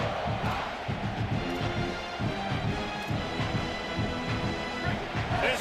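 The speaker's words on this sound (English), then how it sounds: "This crowd trying to make life miserable for this offense." A roaring stadium crowd in a college football video game, a constant loud swell of massed voices and yells with a commentator talking over it.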